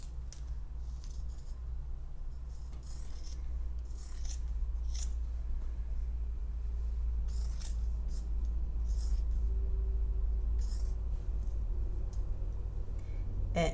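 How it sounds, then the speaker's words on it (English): Scissors snipping through the fabric binding of a sewn sleeve, a series of crisp close cuts in irregular bursts over a low steady background hum. "I'm going to cut off this binding, and I am just going to cut it off"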